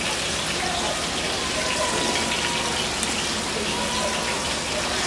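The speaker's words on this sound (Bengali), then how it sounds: "তো কুচিটা একটু তেলের মধ্যে ছেড়ে দিই। এটা ভাজলে একটু আলাদা রকমের ফ্লেভার আসবে।" Chopped garlic sizzles in hot oil as it fries, a steady dense crackling hiss that fills the whole stretch without pause, close and fairly loud with no voice over it.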